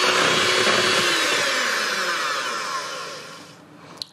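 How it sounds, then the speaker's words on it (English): Electric hand beaters whisk egg whites toward soft peaks for a summer fruits roulade, a steady close broadband whirring that holds for several seconds, slowly easing off before a couple of faint clicks at the end. "we're going to whisk up the whites until they're at the soft peak stage"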